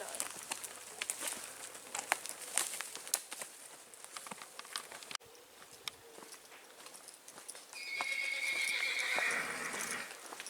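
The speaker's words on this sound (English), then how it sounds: "The old horse is happy." A horse neighs during a countryside pub walk in Hampshire, the whinny rising clearly near the end over soft hoof clip-clops and scattered birdsong, moderately close in an open rural setting.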